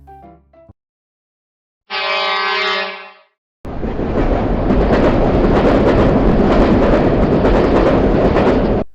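After a short chime and a tone, a high-speed train runs on rails with a loud, steady rumble and rushing noise that continues to the end.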